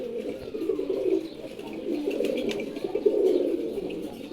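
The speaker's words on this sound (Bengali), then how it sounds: "আমার খুবই পছন্দের একটা কবুতর এখনও হাতেই আছে দেখেন" Male pigeons coo in low, throaty, rolling phrases, repeating several times close by with faint background chirps and no one talking.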